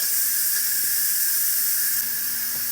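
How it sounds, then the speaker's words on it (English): Steady, loud steam hiss streams continuously from an Instant Pot pressure cooker valve during steam release after cooking spicy chicken and rice, with faint clatter underneath. "I'm going to go ahead and let the steam off here"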